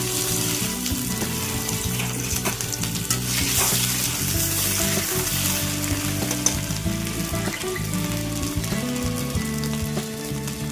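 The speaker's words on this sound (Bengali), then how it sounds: "শুকনো লঙ্কা ভাজা হয়ে গেছে, এবার তেজপাতা দিয়ে দিলাম" Oil sizzles and crackles steadily as bay leaf and dried red chillies fry, with faint background music running throughout.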